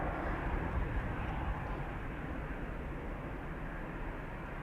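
EasyJet Airbus A320, 15 years old, departing Amsterdam Schiphol: a steady, moderately loud broadband jet roar that holds even throughout, with no talk over it.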